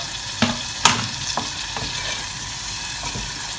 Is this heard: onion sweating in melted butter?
yes